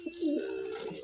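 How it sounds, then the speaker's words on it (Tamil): A pigeon coos inside a loft, one short, low, throaty rolling call that is close and fairly loud, with no talking over it. "செம்மா இருந்த புறா போய் வம்பெடுத்துக்கிட்டு இருக்குது."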